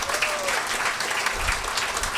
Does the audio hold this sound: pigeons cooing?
no